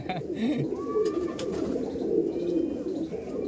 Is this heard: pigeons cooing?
yes